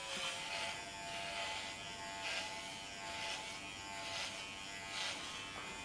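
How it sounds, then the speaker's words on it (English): An electric dog clipper with a 12 millimeter attachment comb trims a standard poodle's coat at close range, humming steadily with a bright buzz that swells gently with each pass, no talk over it. "it's totally possible to use this clipper for your home grooming"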